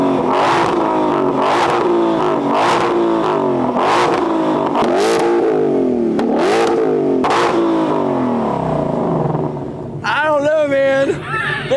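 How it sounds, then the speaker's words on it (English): A Ford Mustang GTD and a Shelby GT500 engine rev loudly in turn, repeated deep roaring revs rising and falling in quick succession up close, ending in a higher rising whine. "the first ever GTD versus GT500 rev battle coming at you"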